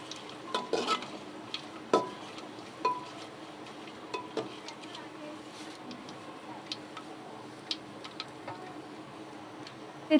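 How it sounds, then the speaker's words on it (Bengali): Bay leaves and whole garam masala fry quietly in hot oil for handi chicken, giving a soft sizzle broken by scattered small pops and ticks from the spices, fairly faint and close, with no speech. "তেজপাতাটাও ভাজা ভাজা হয়ে গেছে, গরম মশলাটাও একটু ভাজা ভাজা হয়ে গেছে"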